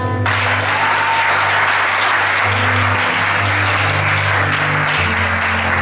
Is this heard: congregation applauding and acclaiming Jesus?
yes